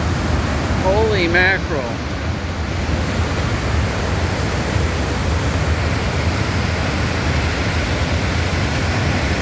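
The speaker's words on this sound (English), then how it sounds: "Look at the gushing coming through there. The sound is literally deafening." Barron Falls gushes after a week of very heavy rain, a loud, constant broadband roar of rushing water filling the whole clip, with a brief exclamation from a voice near the start.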